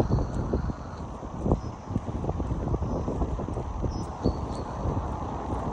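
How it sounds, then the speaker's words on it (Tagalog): Strong wind buffeting the microphone outdoors near the Aldershot military museum, a steady low roar with rumbling gusts and irregular thumps throughout, no talk. "Lakas ng hangin."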